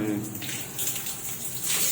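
Water is poured or run to rinse a bathroom being cleaned of crusty buildup. It makes a continuous close splashing gush for the whole short moment.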